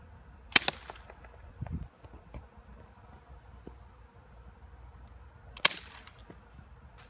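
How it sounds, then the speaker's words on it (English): A Bear River BOA semi-automatic CO2 BB pistol fires two sharp, close cracks several seconds apart, with a quiet background and a faint thump between them. "So now let's shoot it."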